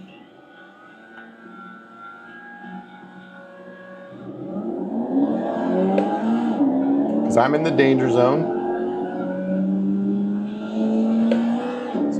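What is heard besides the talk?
Formula Vee race car engines in the iRacing video game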